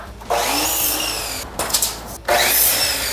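A power saw cutting a wooden framing stud for a drywall partition wall in an office renovation, two loud bursts of cutting separated by short pauses, with no talk.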